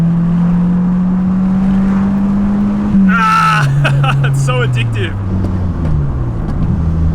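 A Mitsubishi Lancer engine holds a high strained note under hard acceleration, then steps down through gear changes as it keeps pulling on an open hill road, with an excited voice speaking over it partway through.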